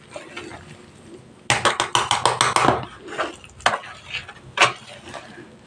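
Fruit cake batter with no egg being gently folded right after Eno fruit salt goes in, a utensil clattering against the bowl in a quick burst of sharp knocks, then a few scattered taps, close and fairly loud.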